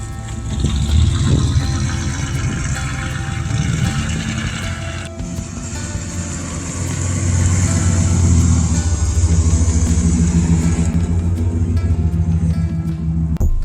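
An old car with a 350 engine, stored under a tarp for 20 years, rumbling at idle and while driving, a loud steady low drone that swells as it pulls away, no speech.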